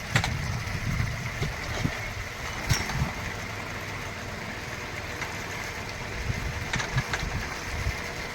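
Steady low motor hum from a water pump on a newly built hand-pump well, running quietly and evenly close by, with small clicks and knocks over the constant drone and no talking.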